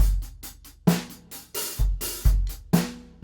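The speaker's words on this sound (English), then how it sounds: "It's tough to close the hi-hats hard enough and fast enough in order to get a clean ending to an open note." Drum kit with open hi-hat notes played a little sloppily: repeated kick and snare-like hits with washy cymbal strokes that ring on loosely instead of closing cleanly, in a steady groove, no voices.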